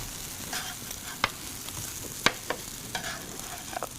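French toast sizzles in a hot frying pan with a steady crackling hiss, punctuated by a few sharp clicks and scrapes.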